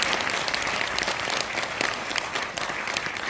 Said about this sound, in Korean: 다시 한번 박수 한번 보내주시고요